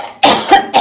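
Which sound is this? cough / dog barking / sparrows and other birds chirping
cough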